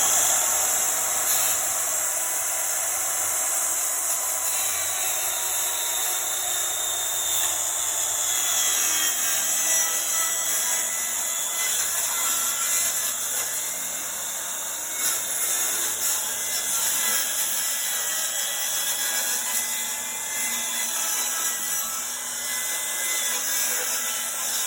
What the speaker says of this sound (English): I can just run my saw right up there and trim all this off.